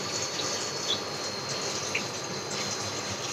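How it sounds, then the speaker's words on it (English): Oil poured into a hot pan for making malai kofta curry gives a faint, steady hiss that runs evenly throughout without breaks, with no one speaking. "I'll pour some oil in this."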